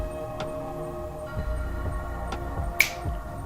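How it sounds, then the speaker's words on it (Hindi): Fingers snap a few times, sharp and close, with single crisp clicks spaced irregularly over a faint steady background hum. "snap your fingers, snap your fingers, snap your fingers"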